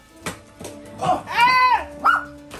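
A puppy gives a few close, high yipping barks and whimpers, loud and near, with a person talking between them.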